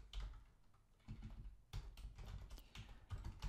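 Code being typed on a computer keyboard makes quiet, close key clicks in uneven bursts with brief pauses, alone with no talking.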